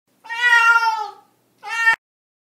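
A cat meows twice, a long drawn-out meow followed by a shorter one, close and clear with silence between.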